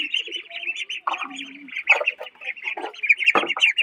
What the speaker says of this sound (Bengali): এই যে আমার হাঁসের বাচ্চাগুলো